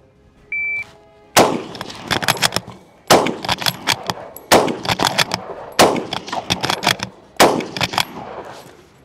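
A Kar 98 rifle fires five rounds in rapid succession, and each loud, sharp report is followed by clattering action noise. A brief electronic beep sounds just before the first shot.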